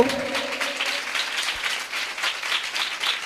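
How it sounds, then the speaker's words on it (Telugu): A worship congregation claps loudly and continuously, a dense roar of many hands with rapid uneven rhythm, alone after a brief fading tone at the start. "యేసయ్య సన్నిధిలో బిగ్గరగా చప్పట్లు కొడుతూ"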